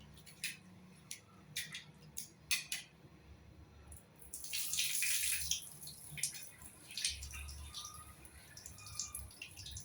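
Flattened rice (aval) is rinsed in water in a home kitchen, with light splashes and drips throughout and a louder, sustained sloshing burst near the middle.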